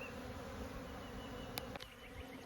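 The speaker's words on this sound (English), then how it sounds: "there's like some bees flying around" A swarm of honeybees buzzes in a soft, continuous drone, several insects flying around close by, with a couple of brief knocks near the end.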